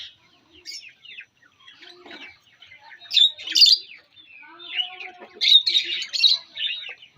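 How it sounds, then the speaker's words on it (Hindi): Pet cockatiels, lovebirds and parrots chirp and squawk in a lively mix of overlapping calls, starting sparse and quiet, then growing louder with bright bursts of tweeting in the second half. "ये माशाल्लाह माशाल्लाह बहुत ही खूबसूरत, बहुत ही क्यूट, कलरफुल और बहुत ही प्यारे प्यारे परिंदे हैं"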